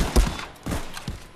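Gunfire in the Contractors VR shooter game, a few sharp reports spaced across a brief moment, fairly close and loud with no talking.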